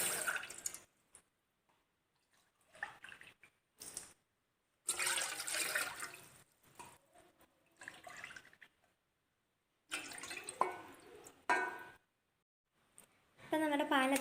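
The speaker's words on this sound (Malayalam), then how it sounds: "ഇനി നമുക്ക് ഒരു പാത്രത്തിലേക്ക് ഒരു 3 കപ്പ് പാലൊഴിച്ചു കൊടുക്കാം." Three cups of milk poured into a pot while making Parle-G ice cream, heard as intermittent liquid splashing and trickling bursts separated by short quiet gaps.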